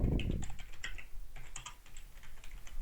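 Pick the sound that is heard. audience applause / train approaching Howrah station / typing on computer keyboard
typing on computer keyboard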